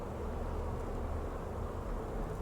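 Honeybees buzz steadily around a hive frame in late summer, a dense, continuous drone close to the ear with no voices over it.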